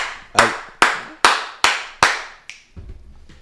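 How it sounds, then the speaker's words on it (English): Five sharp, evenly spaced hand claps ring out close and loud, followed by a softer sixth clap and some faint shuffling. "I love when you clap like that"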